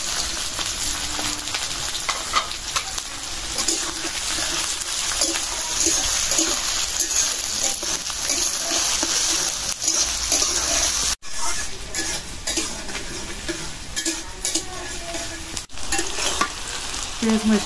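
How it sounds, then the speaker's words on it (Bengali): Onion and green chili frying in hot oil after dried chilies, a loud continuous sizzle with scraping stirs and splatters throughout, up close and without speech. "পেঁয়াজ মরিচ একটু ভাজা নিলাম"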